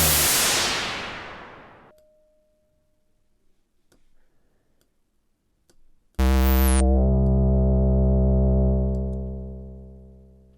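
Broadband noise from the noise oscillator of a Logic Pro synth, loud and hissing at first and then fading away, followed by a short faint tone, sparse ticks and a sudden loud sustained buzzy synth tone that slowly decays.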